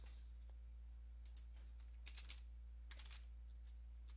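Typing on a computer keyboard while entering commands to fix a Dell computer stuck in a boot loop; quiet, scattered clusters of soft key clicks with pauses between them over a faint steady hum.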